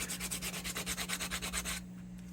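Hand sanding with a strip of old belt-sander belt glued to a block: about fifteen quick, even back-and-forth rasping strokes, close and fairly loud, stopping near the end with a steady low hum beneath.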